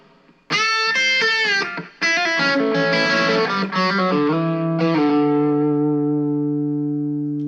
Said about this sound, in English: let's switch now to the more common sense use of the effects, so which is the reverb